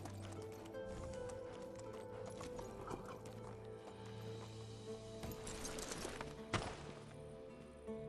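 Hooves of a ridden horse clip-clopping steadily on the way home in the Medieval Dynasty video game, a close regular trot under ambient sound with a short whinny late in the clip.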